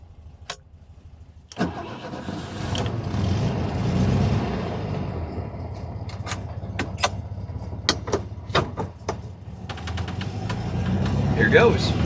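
A 1967 VW Beetle barn find starting up and pulling away, the engine catching and then running with a steady rumble, mixed with clicks and knocks inside the car, while a person talks over it.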